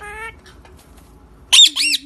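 Pet parrot giving two loud, harsh squawks close by near the end, after a brief high tonal call and quiet room sound.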